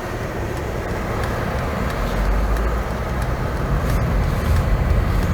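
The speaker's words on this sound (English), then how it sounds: "Let's go for a quick drive" A 2021 Mercedes-Benz GLE 450 driving in comfort mode, heard from inside as a steady, muted road and engine hum that stays even and continuous throughout.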